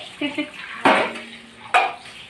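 Dishes, pots and pans being washed in a home kitchen, with two sharp metallic clatters standing out over a low background and faint clinks between them.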